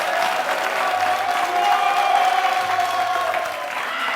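An audience applauds continuously, a dense wash of clapping that swells and then eases slightly, with a faint voice and low hum underneath.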